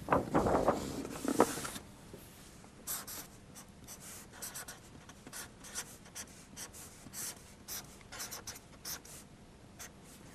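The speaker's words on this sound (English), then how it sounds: "Let me write that down again on the next page." Math equations written by hand on paper, close scratchy pen strokes in quick irregular bursts, louder at the start and softer afterward, with no speech.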